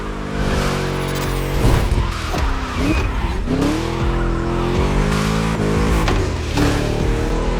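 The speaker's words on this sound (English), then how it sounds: "Just listen to that V8 like a chonky, down-tuned guitar riff." A V8 muscle car races in The Crew Motorfest, its deep engine droning loudly and continuously, with gear shifts, revs rising and falling, and tires squealing through corners.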